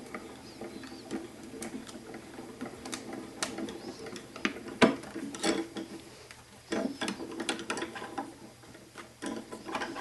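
A Spellbinders Grand Calibur die-cutting machine with its handle being turned as the plate feeds through, giving a soft, uneven run of mechanical clicks and ratcheting ticks at close range.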